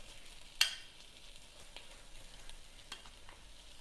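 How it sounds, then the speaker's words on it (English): Pieces of meat sizzle as they sear in a hot oiled pan for masala gosht, with a sharp crackle as they go in and a soft continuous frying hiss with occasional stirring after. "So I'm just putting my bits of meat in and I'm going to sear them"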